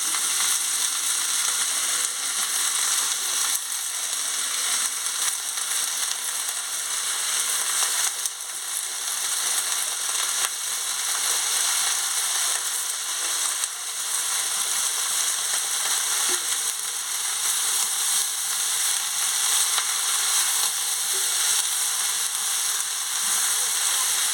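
Cabbage with carrot, tomato, eggplant and potato fries in a pan for a Bengali chorchori, making a loud, continuous close sizzle with faint stirring and occasional soft voice underneath.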